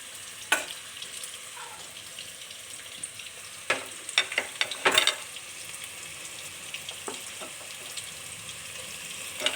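Onions, green chillies and curry leaves frying in oil for egg curry, an even close sizzle with a cluster of sharp stirring clatters in the middle, no voices.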